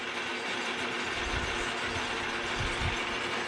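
An old lathe running after a motor replacement, giving a steady mechanical hum with low rumbling and faint ratcheting, even and continuous throughout.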